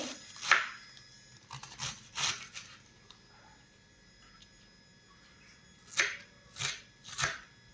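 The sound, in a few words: chopping cabbage finely with a knife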